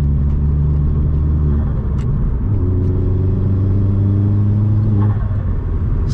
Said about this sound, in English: Sounds so good. I love the turbo noises.